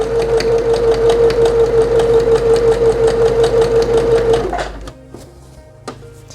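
A sewing machine runs fast and steadily for several seconds as it stitches alongside stretched elastic, with a rapid mechanical chatter and a whining motor tone, then stops, leaving a few soft clicks.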